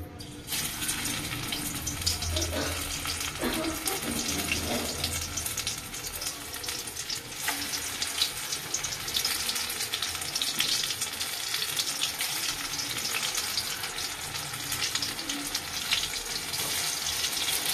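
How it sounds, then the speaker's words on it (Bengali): Round dollops of batter hit hot oil and fry with a steady, dense bubbling sizzle that runs loud and unbroken throughout, close up and without voices. "এবার তেলের উপর দিয়ে দেবো গোল গোল আকারে।"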